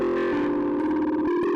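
An Elektron Octatrack with a heavy distortion effect produces a loud, harsh, saturated sustained tone that shifts and stutters as the effect evolves over a short moment.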